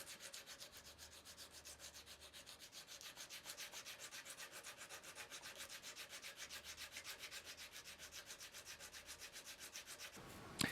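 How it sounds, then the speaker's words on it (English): Sanding the top of a bass guitar nut to lower its string slots, a steady rhythmic rasp of back-and-forth strokes at moderate level, running continuously with no talk and a brief knock at the end. "I can sand the top of the nut to reduce the depth of those slots"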